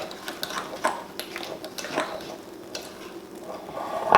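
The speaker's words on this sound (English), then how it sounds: "So you're gonna mix our muffins together." Thick blueberry muffin batter stirred in a mixing bowl, the spoon scraping and knocking against the sides in a steady, fairly close rhythm, with faint clinks now and then and no talking.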